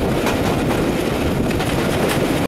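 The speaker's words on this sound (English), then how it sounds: "there's also some quite interesting steam engines, and this is the Jacobite Express" Jacobite Express steam train crossing Scottish moorland, giving a loud, steady, dense rumble and roar that holds throughout and then cuts off abruptly at the end.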